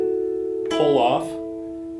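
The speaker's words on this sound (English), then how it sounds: "Hammer on, pull off" A guitar double stop is played with a quick hammer-on and pull-off in a pop ballad solo, a sustained ringing note followed by a brief burst of fast, close fretted notes that decays back into a steady ring.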